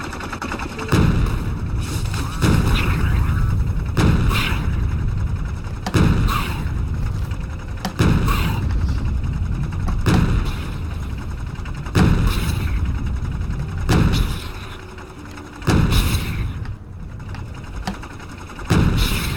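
Cannon fire in the video game Factorio booms in heavy, regular blasts roughly every two seconds, loud and close with rumbling tails, no talk.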